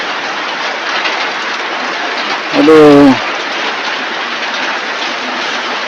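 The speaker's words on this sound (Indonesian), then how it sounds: "Ya, hujan makin deras." Heavy rain pouring down on a hut in a rice paddy, a loud, dense, continuous roar, with a brief exclamation from a man partway through.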